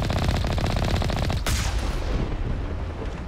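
Enemy gunfire in the Mass Effect video game: dense rapid bursts of shots fill the first second and a half, then a sharp blast gives way to fading echoes and debris noise.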